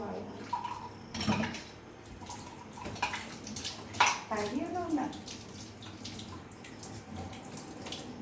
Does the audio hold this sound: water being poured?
yes